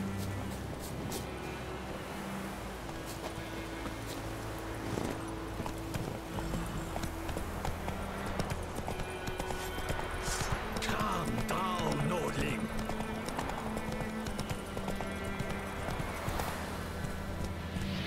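Horse hooves clip-clop at a steady pace in The Witcher 3 over a continuous game soundscape and background music, with faint voices now and then.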